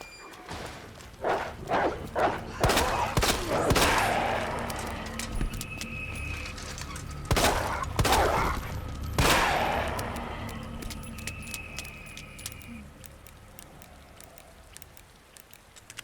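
Repeated gunshots from Claire's weapons in the Resident Evil 2 Remake video game, a string of sharp loud bursts in uneven clusters with a few quieter clicks and rattles between them.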